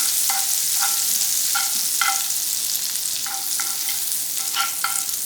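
Cooking oil and butter heat in a frying pan over a low flame for French toast, a steady sizzle joined by repeated short, squeaky scrapes of stirring.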